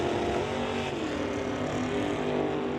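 A dragster at a drag racing event at Mission Raceway roars down the track in a sustained, loud, dense engine blast that holds steady for the whole stretch.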